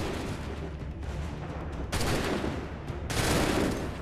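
Musket volleys ring out in Assassin's Creed 3, dense crackling gunfire that fills the scene and swells again in two loud bursts, continuous rattling shots layered over one another.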